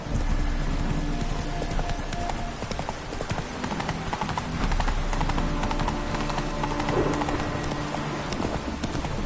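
Roach, the horse in The Witcher 3, gallops with fast, continuous clip-clopping hoofbeats over a dense, loud game soundscape with music, near and unbroken.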